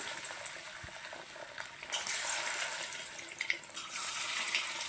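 Besan batter frying in a small amount of hot refined oil in a wok, a steady crackling sizzle with stirring clatter that swells louder partway through and again near the end.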